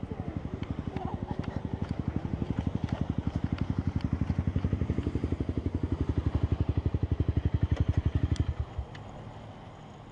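A motorcycle engine thumps in a fast, even pulse close by for about eight seconds, then cuts off abruptly and leaves a quiet background with faint clatter.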